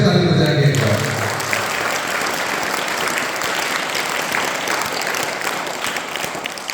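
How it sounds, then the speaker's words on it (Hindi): Loud, sustained applause from a school audience for Class 8 students at a farewell function at Deepak School in Korba. The clapping runs steady and dense from start to finish, with a brief voice at the very beginning. "तो सबके लिए जोर से ताली बजाएंगे एक बार।"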